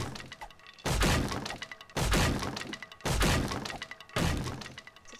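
A door being smashed and falling in the video game 7 Days To Die: four heavy, crashing thuds spaced about a second apart, each loud impact followed by a short splintering decay.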